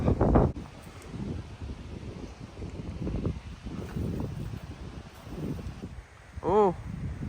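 Gusty wind buffets the microphone at Anderson River Park during a windy disc golf round, a rough, blustery roar that swells and fades throughout while people talk over it.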